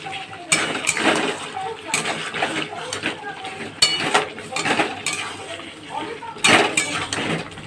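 Spicy mutton kosha stirred in a pot, with a string of sharp scraping and clinking hits from the spoon against the metal over a low sizzle, close and fairly loud.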